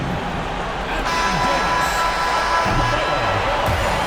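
Home crowd cheering in an NBA 2K24 basketball game after a Brooklyn victory, a steady broad roar of arena noise with some commentary-like voice underneath.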